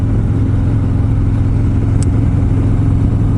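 A Harley-Davidson Road Glide rumbles along on the road with a steady, loud, low engine drone that holds constant throughout. Wind and road noise blend into the close, unbroken tone.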